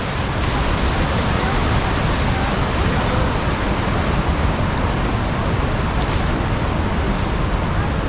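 Loud, dense roar of rushing water at the Düden waterfall in Antalya, Turkey, with the river overflowing its banks; a constant powerful wash of noise close by, unbroken for the whole stretch.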